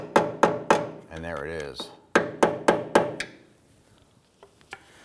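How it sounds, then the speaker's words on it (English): Fittings tapped onto the flange of a Hummer H3 power steering pressure line with a tool, in two quick bursts of four sharp, close metallic taps, separated by a short spoken phrase. "You're gonna be putting your tool right on the flange and just gently tap these in evenly"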